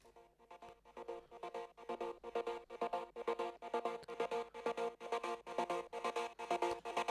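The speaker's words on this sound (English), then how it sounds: "During the build it starts with this stuttered vocal pad that sounds like this." A stuttered vocal pad in the build of an electronic track, chopped into rapid, even pulses of a sustained voice-like chord that repeat in a steady rhythm, quiet and without talking.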